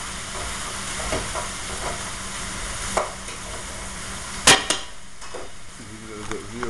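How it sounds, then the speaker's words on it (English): Onions sizzle and fry as they cook down in a pot for traditional French onion soup, a steady close crackle with occasional stirring scrapes and clanks. "Go ahead and add my onions. I'm going to cook those down."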